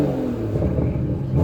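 An Aston Martin DB11 V12 engine revs in Sport Plus mode, a loud, deep, steady roar with rising and falling pitch heard up close and alone.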